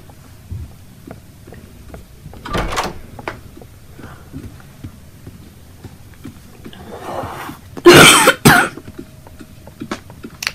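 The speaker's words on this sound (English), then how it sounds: "I had a little cough" A couple of sharp coughs, one early and a louder pair near the end, against a quiet room with small knocks and rustles.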